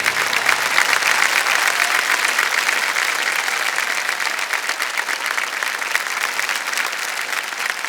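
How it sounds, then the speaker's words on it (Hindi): Studio audience applause for a contestant on the KBC quiz show with Amitabh Bachchan, a full, dense and even roar of clapping that holds steady from start to end without speech. "तालियां बजती रहें इनके लिए"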